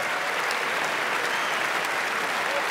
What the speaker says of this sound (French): Applaudissez Monsieur Poulpe.